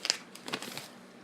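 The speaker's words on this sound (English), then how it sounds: "Get the page turning." A paper page rustles and crinkles briefly as it is turned, a soft close-up flutter with a few small crackles, then quiet.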